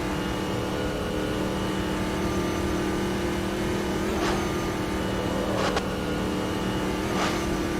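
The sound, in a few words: race car engine accelerating on the Nordschleife, video game Automobilista 2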